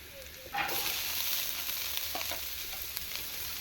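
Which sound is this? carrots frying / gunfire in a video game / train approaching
carrots frying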